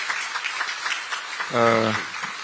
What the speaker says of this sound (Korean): 특별히 박수 한번 보내주시기 바랍니다.